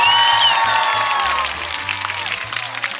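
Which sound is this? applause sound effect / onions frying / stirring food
applause sound effect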